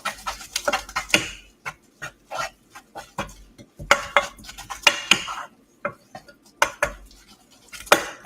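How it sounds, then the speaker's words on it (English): Instant Mr. Noodles ramen is stirred in a metal pot, with a utensil clattering and scraping against the sides in quick, irregular bursts close by. "So we're gonna mix up the Mr. Noodles."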